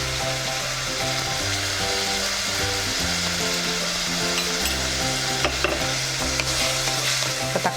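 Tomatoes sauté with salt in a pan for South Indian egg kurma, giving a steady close sizzle with scraping stirs throughout, over a faint tonal background.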